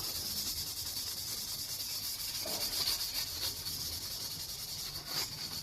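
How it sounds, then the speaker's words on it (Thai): Steady, close rubbing and abrasive scraping as a pot is scrubbed with homemade concentrated scouring cleaner, a continuous gritty hiss with no talk. "ต้องใช้เวลาขัดหน่อยนะครับ เพราะว่ามันค่าฝังลึกนะครับ"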